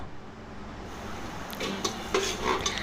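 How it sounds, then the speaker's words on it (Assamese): Soft sizzling of onions frying in a pan, joined partway through by scraping and clinking as a utensil stirs the pan. "পিঁয়াজখিনি অলপ লৰাই লৰাই ভাজিব লাগিব"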